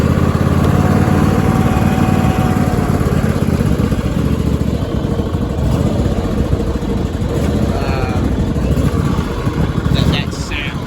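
A junkyard Cub Cadet riding mower, fitted with a swapped-in 26 HP Briggs engine, runs loudly and steadily up close. The engine gives a rough, continuous drone that wavers slightly as it drives, and a brief clatter comes near the end.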